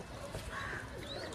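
A small Suleman Kagzi cock pigeon, a good flying breed, gives a brief, faint low coo against quiet background hiss.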